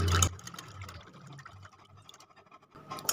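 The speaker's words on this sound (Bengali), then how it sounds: "দুধ, তেল আর টক দইটা খুব ভালো করে একটু মিশিয়ে নিচ্ছি।" Milk, oil and sour yogurt are mixed in a bowl for a semolina cake, giving a soft, brief liquid swish and scrape, with a sharper clatter at the start and end.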